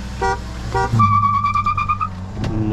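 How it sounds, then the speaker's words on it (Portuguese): A Chevrolet Cruze 1.4 turbo's horn honks in two short beeps, then one longer sustained blast, close and loud over an idling engine. "Terceira buzina."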